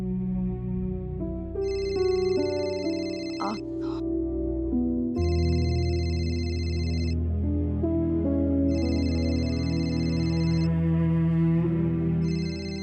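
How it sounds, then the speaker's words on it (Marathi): A phone's electronic ringtone repeats in regular bursts over a steady musical background, ringing on without being answered. "अगं फोन उचल ना."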